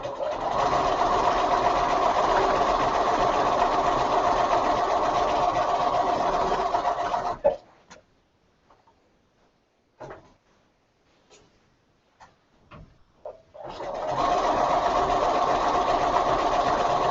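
A sewing machine doing machine quilting runs steadily and close for several seconds, stops for a stretch of near-silence broken by a few clicks and taps, then starts stitching again.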